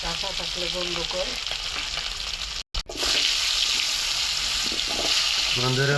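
Tilapia frying in oil with a steady, loud hiss and crackle, briefly cut by a short gap, while a voice speaks quietly at the start and again near the end.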